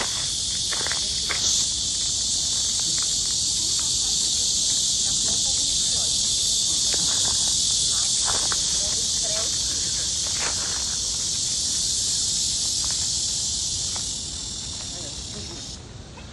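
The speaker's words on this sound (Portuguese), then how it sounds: "as cigarras da Coreia cantam diferente" Korean cicadas at Gyeongbokgung Palace drone in a loud, continuous high buzz that holds steady before fading near the end, with scattered footsteps and distant voices beneath.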